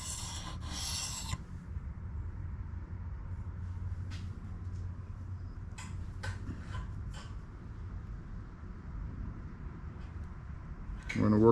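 The back of an antique chisel is rubbed lightly to remove a burr, giving a steady, soft rasping scrape with a few sharper strokes, close and fairly quiet.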